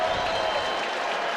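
Stadium crowd of over 13,500 fans at Providence Park applauding at a Portland Timbers soccer match, a dense, distant wash of clapping and crowd noise.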